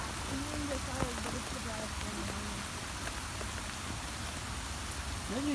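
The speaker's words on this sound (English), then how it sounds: "It is raining now." Rain falls outdoors at a farm in a steady, even hiss with scattered drip taps, while faint voices and birdlike chirps sit underneath.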